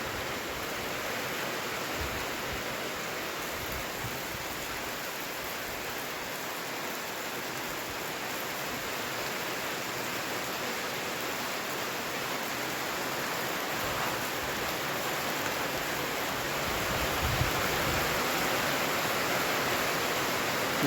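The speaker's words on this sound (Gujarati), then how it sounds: "મોટા મોટા છાંટે જો મારા મમ્મીને જો આમ નીંદી છે ને આપણે હજુ તો નાખીને આવ્યો કા જો વરસાદ ફૂલ આવવા માંડ્યો" Heavy rain with big drops pours down in a steady, dense hiss that fills the whole stretch, unbroken and fairly loud, with no voices over it.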